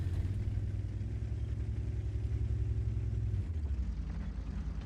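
Tank engine in World of Tanks, the AT15A tank destroyer, rumbling steadily and loud with a deep low drone, dropping in pitch and easing slightly near the end.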